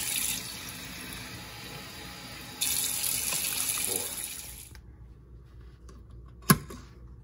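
Water runs steadily from a kitchen tap into a pot being filled for brown rice, a close, even hiss that swells briefly, then cuts off, followed by a single sharp clank.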